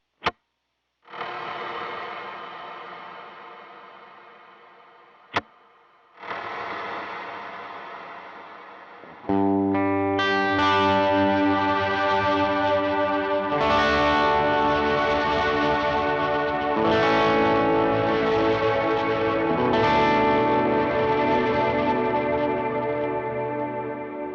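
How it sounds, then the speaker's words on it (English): Electric guitar drenched in a huge cloud-style ambient reverb from a Strymon BigSky: sparse chords swell and decay into a long shimmering wash, then sustained layered notes build into a dense, continuous pad, loud and alone. "it's a bigger version of the cloud you just heard, and it's got more of that ambient guitar washiness"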